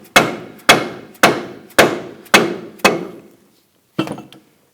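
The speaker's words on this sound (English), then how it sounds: "go ahead and tap the ball joint in. Now I'm using a rubber mallet or a dead blow" A rubber mallet taps a ball joint into the steering knuckle of a 2006-2010 Hummer H3: six evenly spaced, sharp thuds with short decays, a pause, then one more blow, close and loud.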